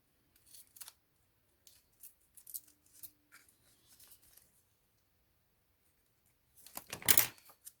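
Scissors cut paper for a scrapbooking card, with a series of quiet, close snips spread through the clip, ending in a louder burst of rustling cuts near the end.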